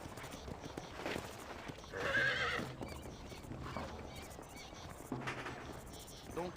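Horse neighing and hooves clip-clopping in the cowboy video game Red Dead Redemption, a brief moderate whinny over a quiet, noisy outdoor ambience, with a second faint call later.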